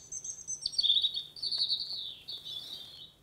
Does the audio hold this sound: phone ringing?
no